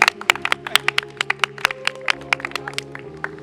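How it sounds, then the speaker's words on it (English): A small group claps for four finalists at the end of a weekend team challenge: sharp, uneven hand claps that come quickly over a steady low hum, with no one talking. "let's give a round of applause for these four beasts"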